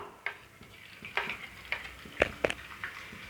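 Ginger dropped into melted ghee for ven pongal, a soft crackling fry with scattered sharp pops and spoon taps in the pan, close and fairly quiet.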